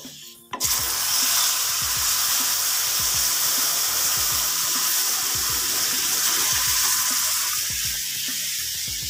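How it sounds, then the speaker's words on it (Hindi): Hot water is poured into a halwa mixture in a pan, giving a loud, steady rushing pour that runs alone and without break for most of the stretch, with faint clinks and bubbling underneath. "तो जो मैंने 1 लीटर पानी गर्म करके रखा हुआ था वो मैंने इसमें ऐड कर दिया है।"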